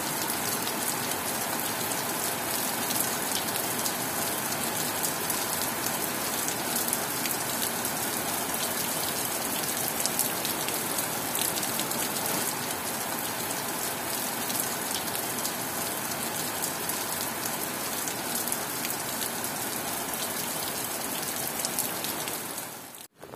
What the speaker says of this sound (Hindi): बारिश फिर बहुत ज़्यादा हो गई है